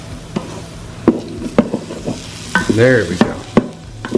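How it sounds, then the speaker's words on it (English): Serrano chilies and shallots sautéing in an Instant Pot, with several sharp stirring scrapes over a low sizzle and a brief spoken remark partway through. "And we're going to just saute just a minute."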